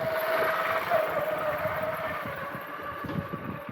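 A modified 240 tractor fitted with a 260 rear end drones nearby at a steady pace, its low rumble and throbbing exhaust holding even throughout.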